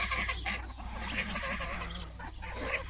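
Busy poultry chatter from a flock, steady clucking and squawking up close with continuous background noise and low hum throughout.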